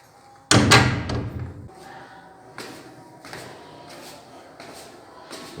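A door in a home in Luxor, Egypt, bangs loudly shut up close, followed by a few softer knocks and rattles as the door and latch settle.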